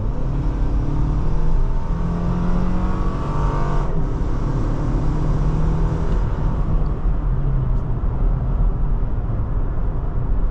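A 2025 Toyota 4Runner Trailhunter runs on its gas engine, a steady loud drone of engine and road noise from inside the cabin with no clear shifts or pauses, and no one speaking.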